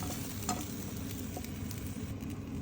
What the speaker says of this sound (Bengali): আমি 2-3 মিনিটের মতো মাছগুলো ভেজে নেব